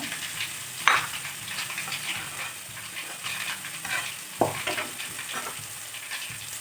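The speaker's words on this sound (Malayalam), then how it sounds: "കടുക് പൊട്ടി വന്നിട്ടുണ്ട്." Mustard seeds crackle and sizzle in hot oil close by, with scattered sharp pops and a couple of louder clatters over a steady frying hiss.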